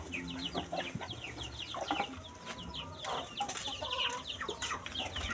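A flock of chickens clucks steadily, many overlapping chirpy calls close by, with no talking.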